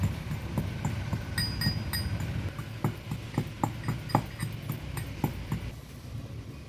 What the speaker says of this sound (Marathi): जाडसरच हे खलबत्त्यात आपल्याला कुटून घ्यायचं आहे।